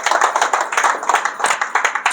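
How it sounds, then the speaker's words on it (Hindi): Audience clapping at a product demonstration event in India, a burst of brisk, dense applause from a crowd, steady and fairly close for a couple of seconds with no talk over it. "एक बार सर के लिए जोरदार ताली।"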